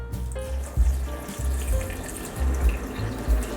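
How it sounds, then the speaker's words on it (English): Water poured into a blender over soaked dates and cashews, a steady splashing, gurgling stream close by with a few heavier low surges. "We're going to add water."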